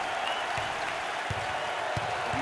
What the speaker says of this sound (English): Wow, listen to those fans. The crowd is thunderous.